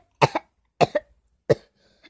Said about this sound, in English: I'm coughing a little.